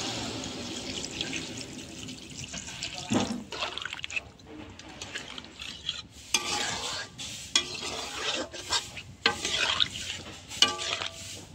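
A filling is stirred and cooked down in a pan as it releases water, making irregular scraping strokes and wet sizzling bursts at close range, quiet between strokes.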